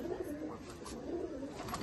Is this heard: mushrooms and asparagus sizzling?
no